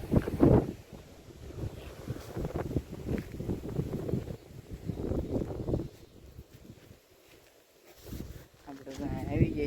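Strong wind gusts across a rooftop as rainy weather sets in, buffeting the microphone in uneven surges and dropping briefly near the end. A voice speaks under the blustering noise.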